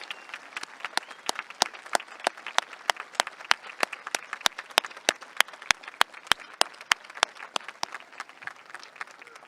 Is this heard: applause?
yes